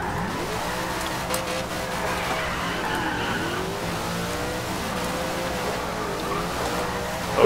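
A Dodge Dart racing in Forza Horizon 2, its engine droning under continuous sliding tire squeals that rise and fall as the car skids through turns.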